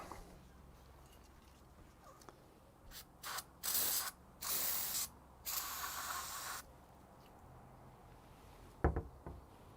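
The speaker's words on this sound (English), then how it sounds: "Just gonna shoot a little bit of brake cleaner down there and clean this out" Brake cleaner sprayed from an aerosol can during Jeep fluid maintenance: several loud, hissing bursts of varying length, close by, followed by a few faint knocks and clicks, with no talking.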